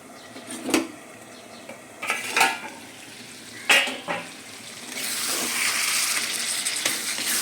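A spatula scrapes and stirs food in a frying pan in a home kitchen, giving a few sharp metallic clinks and scrapes at irregular intervals, then a steadier sizzling hiss of frying toward the end, close and moderately loud, with no talking.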